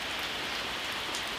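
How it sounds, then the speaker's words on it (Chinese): Steady rain pours down on farmland, a dense continuous hiss of drops on surfaces with no pauses and no voices. "这个雨下的好的嘞，正在浇地了。"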